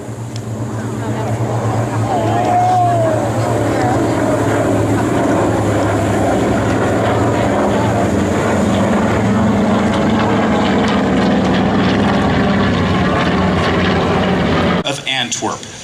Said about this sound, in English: here come the 2 TBM Avengers and the Curtis Helldiver, nicknamed the Big-Tailed Beast